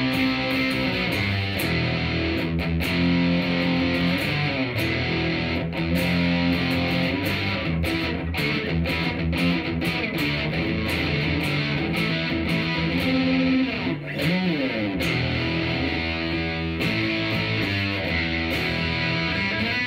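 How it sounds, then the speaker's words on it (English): An electric guitar played through a Boss DS-1 distortion pedal into a Crate Power Block amplifier, with gain set around the 10–11 o'clock position. Sustained, saturated chords and riffs ring out loud and close for the whole stretch, without talk. "And then I use either the Boss Distortion"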